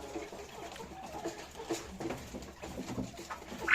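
Quails in a brooder flutter and chirp, soft scattered wingbeats and faint peeping calls in an irregular, low-level patter.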